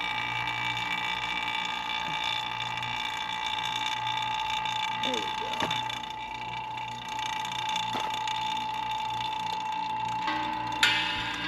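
A vacuum pump running on an off-grid cabin system gives a steady, continuous mechanical drone with a constant hum, unchanged for the whole stretch, with a brief click near the end.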